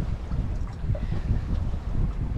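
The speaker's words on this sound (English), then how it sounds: "It's been nice sailing though." A sailboat moves slowly through water in wind, with soft rushing and lapping water under gusty wind buffeting the microphone, steady and fairly quiet, with no voices.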